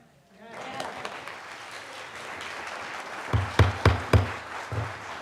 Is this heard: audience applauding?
yes